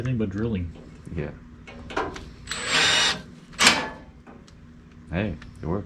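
Power drill boring holes into the deck of a ModLite race car body, heard as a few short whining bursts of varying length with clunks and handling noises between them.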